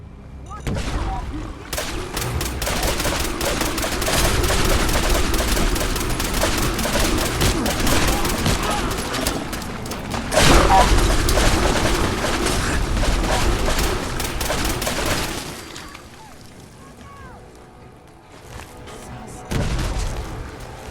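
Heavy, sustained gunfire in the video game Fallout 4: Far Harbor, a dense roar of rapid shots and booms that eases briefly before swelling again, with voices faintly mixed in.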